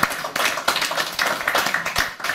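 Applause for a dialect music performance at an assisted living home. Close, lively clapping from a small audience, with uneven bursts and individual hand claps standing out.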